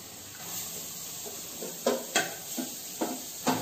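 Onions fry golden brown in a pan with a steady soft sizzle, while a spoon stirs and scrapes at intervals, giving several sharper clinks near the end; no one speaks.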